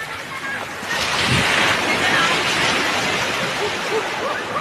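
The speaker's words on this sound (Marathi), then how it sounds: "पाण्याच्या लहरा भारी येत आहेत" Sea waves wash in at Versova beach in a steady broadband roar, mixed with wind buffeting the microphone and a faint murmur of people in the distance.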